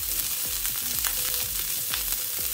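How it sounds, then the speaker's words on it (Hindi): Finely chopped capsicum, grated carrot and onion sizzling in a pan over a medium flame, a steady close crackle and hiss with light stirring scrapes. "सारी सब्जियों को मीडियम फ्लेम पे 2 मिनट के लिए कुक कर लेंगे"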